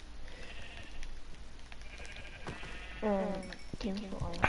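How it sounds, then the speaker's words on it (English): Sheep bleat in the blocky sandbox game Minecraft, a couple of short wavering bleats near the end over faint background game noise. "Oh, sheep!"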